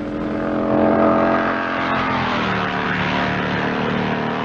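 Racing motorcycles at the 1958 Isle of Man TT brake hard into a right-angled corner, their engines roaring loudly and then dropping in pitch as they slow.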